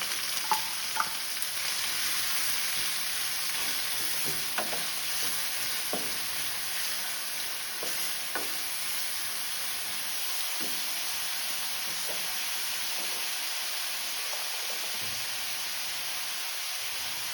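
Onions frying in a pan for a Tamil-style prawn masala, a steady close sizzle and hiss with occasional soft stirring clicks, no talk.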